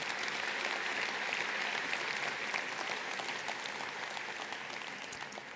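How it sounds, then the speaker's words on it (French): A keynote audience applauds together, a dense steady clatter of many hands that holds even for several seconds and then slowly thins, with no voices over it. "Vous pouvez les applaudir."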